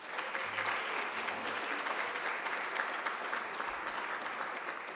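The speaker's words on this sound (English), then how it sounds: "Let's give them another round of applause." Sustained applause from an audience for presenters at a university graduate talks event, a dense steady clatter of clapping lasting several seconds at moderate distance.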